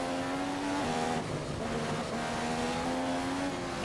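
A Marussia Formula 1 car in the F1 2015 racing game at Spa drones at high revs, its engine pitch holding steady with a brief shift dip, loud and continuous.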